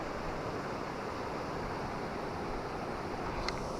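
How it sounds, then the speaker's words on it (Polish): Continuous rushing water from waterfalls near a fishing spot, a steady, even wash of noise with a bit of wind, heard from a short distance with no talking. "tutaj jak widzicie są wodospady"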